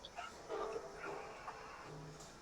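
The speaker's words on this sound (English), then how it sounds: "The dogs are barking." Faint dog yips and barks in the background, brief and distant, heard during quiet pauses around a lecture.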